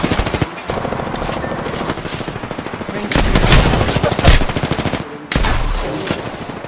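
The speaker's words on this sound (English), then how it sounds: "Opening fire." Rapid automatic gunfire from an Apex Legends match, loud and close, firing in sustained bursts with brief pauses between them and heavy booming impacts layered in.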